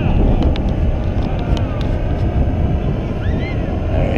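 A paramotor engine drones loud and steady during powered paragliding flight over a beach, its buzzing roar mixed with gusty wind rushing across the microphone for the whole stretch.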